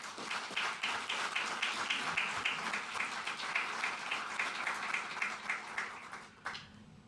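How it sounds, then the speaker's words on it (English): Steady applause from a crowd, dense clapping sustained for several seconds before tapering off at the end. "a big round of applause for all of you"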